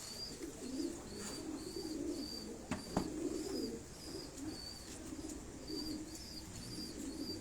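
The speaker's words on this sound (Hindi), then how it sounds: "कबूतर ये आपको दिखाए जा रहे हैं।" Pigeons coo in soft, low repeated phrases at close range, with a few sharp chirps and brief wing-flap bursts over steady background noise; no one speaks.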